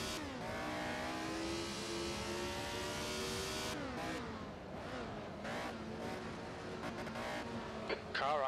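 A 1967 Brabham-Repco BT24 Formula 1 car racing at Willow Springs, its engine screaming at high revs with rising and falling gear-change sweeps, loud and close throughout, with a brief dip and a burst of mechanical rattles near the end.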